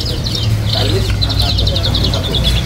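Many caged birds, including cucak wilis and cucak kopi, chirp at once at a busy bird market, with repeated high trills running through a steady crowd hum and talk in the background.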